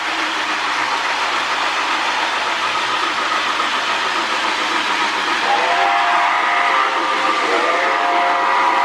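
A Lionel postwar 2046 Hudson model steam locomotive runs with its RailSounds tender, giving a steady continuous rolling and chuffing rumble; partway through, a sustained whistle-like tone rises and holds to the end.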